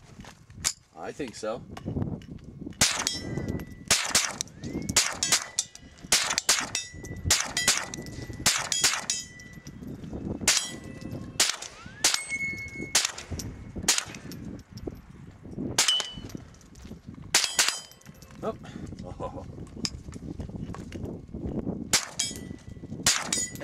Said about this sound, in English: Think we should shoot off some and see what we got?